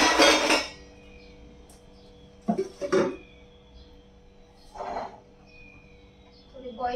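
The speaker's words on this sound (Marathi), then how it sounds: "इथे घेतलेल्या दोन मिरच्या आणि लसूण ठेचून" Green chillies and garlic are pounded with a few separate metallic knocks and clinks on a hard surface, spaced out over a quiet kitchen background.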